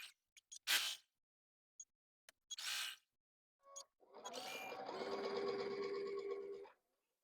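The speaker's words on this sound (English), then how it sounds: "And then we're just going to sew this second leg." Sewing machine stitching the second leg of a Y-seam: a few short handling clicks and rustles, then a sustained close whirring run of stitching for about three seconds that stops abruptly.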